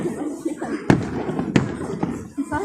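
Fireworks at a Bonfire Night display on Poole Quay go off in three sharp, booming bursts spaced about half a second apart, with people talking throughout.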